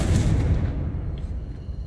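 Confringo spell explosion in the video game Hogwarts Legacy: a loud, booming blast with a rumbling, decaying tail lasting about two seconds, heard alone.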